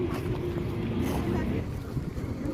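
A boat on a family outing by the water, its low engine rumble running steadily beneath people talking.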